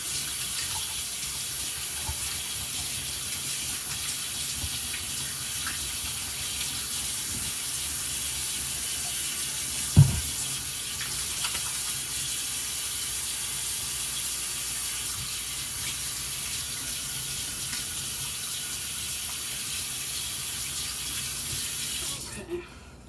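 A kitchen sink tap runs in a steady, close hiss of flowing water as things are rinsed, with one brief clunk partway through and no talking.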